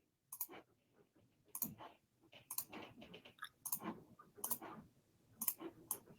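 Faint, sharp mouse clicks sound during a software demonstration of customizing a blueprint, several sporadic clicks spaced about a second apart, close to the microphone in an otherwise quiet room.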